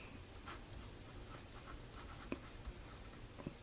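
Chalk or marker scratching steadily across a classroom board during a maths lesson on simplifying expressions, faint and close, with a few sharper taps near the end and no talking.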